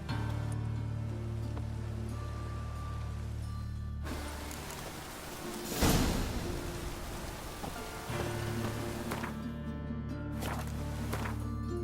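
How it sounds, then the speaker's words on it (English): Rain in The Witcher 3 game, a steady hiss of falling rain and drops on surfaces, with a low musical drone and a brief louder gust or splash around the middle. "Must be mad running around in this rain."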